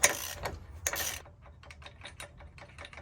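A wrench breaks loose an 18 mm top strut bolt on a truck during a 6-inch Rough Country lift install. It starts with a loud near crack and a burst, and a rapid run of ratcheting clicks follows.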